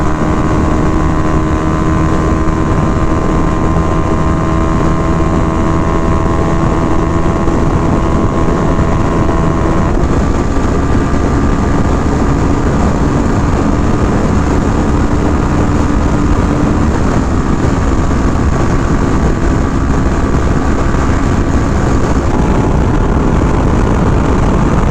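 Honda Rebel motorcycles (300, 500 and 1100) on a top speed run, a sustained droning engine note with heavy wind buffeting, its pitch shifting a couple of times as the ride goes on.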